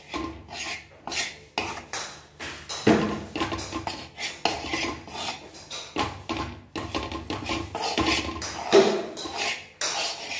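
Refined flour being stirred and roasted in a pan for burfi, with repeated close scraping and clanking of a metal spoon against the pan in an uneven rhythm.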